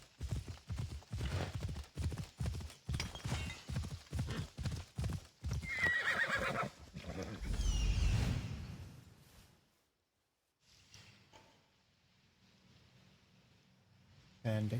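Horse hooves clip-clop in a steady galloping rhythm through Assassin's Creed Odyssey, with a loud whinny and snort near the end of the run, followed by quieter ambient game sound and a short closing burst.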